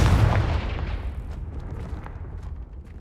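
A Confringo spell explosion in the video game Hogwarts Legacy lands as a single loud, deep boom that fades into a long rumbling decay.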